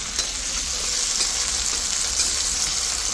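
Potatoes frying in hot oil in a pan for a Bengali fish curry, giving a steady, dense, close-up sizzle that holds evenly throughout with no talking.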